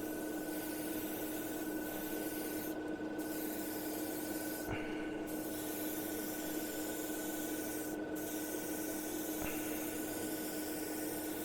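A Mobius TG airbrush spraying paint in a dusty coat gives a steady, even hiss of air throughout, with a few faint clicks and shifts over the constant spray.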